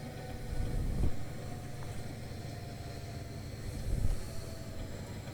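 A coal train in a train simulator game rolls along in a low, steady rumble with soft rail noise and a couple of heavier thumps, fairly quiet and without talk.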